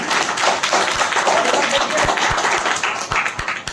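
An audience at a meeting on old pensions and outsourcing claps to welcome a guest, with uneven, scattered hand claps and taps over a murmuring crowd and some indistinct voices.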